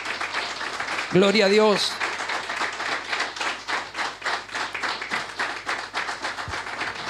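A church congregation claps in a strong, rhythmic, steady beat, with a preacher's voice briefly shouting over it near the start.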